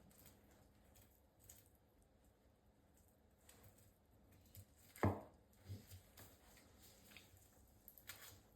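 A knife slices through a raw flathead fish fillet toward the spine, one sharp crunchy cut standing out near the middle and a softer cut just after, over quiet background noise.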